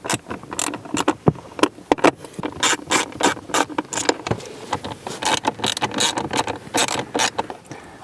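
Repeated ratcheting clicks and short mechanical bursts from a driver backing out Torx T25 screws that hold the blower motor of a 2012-2015 Honda Civic, close and fairly loud, coming in irregular clusters with no talking.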